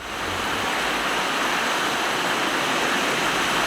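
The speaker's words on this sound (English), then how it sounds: "if I wanted to get that wave sound" Steady, loud rushing wash of water like breaking surf, a continuous broadband roar without pauses or voices.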